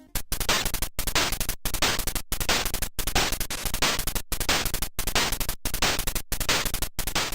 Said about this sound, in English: Here's an idea of what the white noise track sounds like in the game.